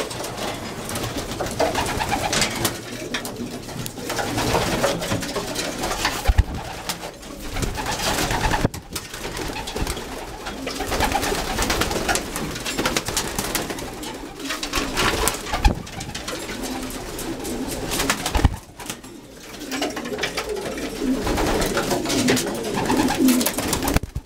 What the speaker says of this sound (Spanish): Vamos a echar las palomas.